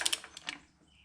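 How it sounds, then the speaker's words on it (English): A click-style torque wrench on a motor mount bolt of a 2003 Honda Shadow 1100 gives a few quick, close metallic clicks that fade into a short ringing tail. "in my opinion, you can't beat a click-style torque wrench"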